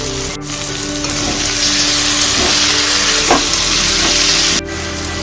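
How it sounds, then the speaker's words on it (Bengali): Chopped ripe tomatoes sizzle loudly and steadily in a hot pan for paneer butter masala, a dense, continuous frying hiss with faint crackles throughout and no talking. "এখন এর মধ্যে কুচি করে রাখা টমেটোগুলো দিয়ে দেবো।"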